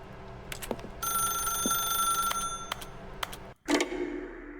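A telephone rings inside the video game The Stanley Parable, a steady electronic trill lasting a couple of seconds amid sharp clicks, followed by a brief silence and a loud thump.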